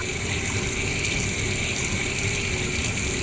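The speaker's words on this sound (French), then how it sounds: "Là, je vais réparer le robinet." A faucet runs in a video game house, a steady broadband water rush that holds evenly for the whole stretch, fairly loud and with no talk over it.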